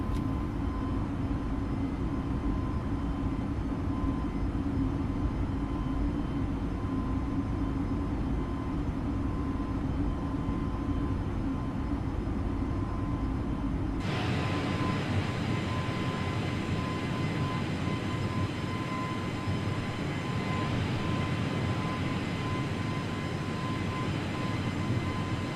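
Steady airliner engine roar in a flight simulator climb-out from Rionegro, a constant loud drone with a whining tone that shifts abruptly to a brighter, harsher rush partway through.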